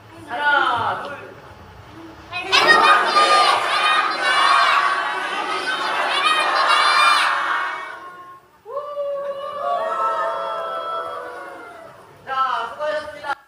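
Sunday school students in a church shout together in loud, drawn-out unison bursts, a big group cry that swells, pauses and rises again, with a short lead voice at the start.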